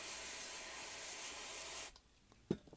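Freeze spray hisses from a can onto a circuit board in one steady, close spray lasting nearly two seconds, followed by a brief pause and a couple of small handling knocks.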